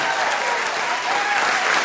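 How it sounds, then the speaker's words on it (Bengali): A cartoon crowd claps for an honoured guest, dense steady applause that stays loud and unbroken from start to finish. "ওনার জন্য বেসন ফাটা হাততালি।"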